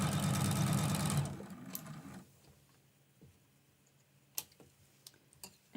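A sewing machine quilting a Christmas block, stitching off the edge: a loud, rapid run of needle strokes for about a second, then it stops, leaving quiet room tone with a few faint clicks and taps.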